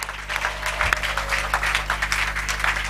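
A church congregation applauds the Lord during a Sunday service, close, steady clapping from many hands with a faint low hum beneath, no talk over it.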